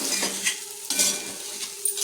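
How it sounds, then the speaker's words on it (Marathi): A spoon stirs a soaked sabudana and rice mixture in a kadai, giving a few close scraping strokes and light clinks over a faint sizzle, with no speech. "आता ह्या सर्व मिश्रणाला मी हलवून घेते तांदूळ चिकटले जातात कढईला"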